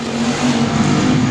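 IMCA Hobby Stock race cars roar down the backstretch at Cotton Bowl Speedway, running side by side in a loud, steady wall of engine noise with no voices.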